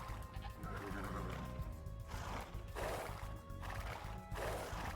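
Horses neighing and whinnying in the Age of Empires 2 strategy game, several loud drawn-out calls in succession over a steady game ambience with faint hoof clops and bird sounds.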